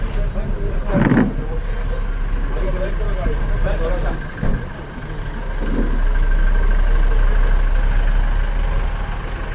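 A vehicle engine idles at a low, steady rumble at a crowded market building, under voices and chatter, with a few brief bangs and the engine swelling slightly toward the end.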